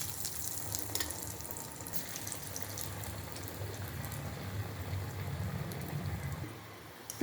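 Pieces of battered jackfruit kurkuri deep-fry in hot oil with a steady, even sizzle and hiss. Faint crackles run through it, held at a low, constant level throughout.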